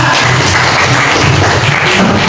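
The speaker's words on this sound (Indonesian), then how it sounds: "Terus tepuk tangan." A short burst of applause from students in a classroom, many hands clapping together in a dense, steady patter for a couple of seconds.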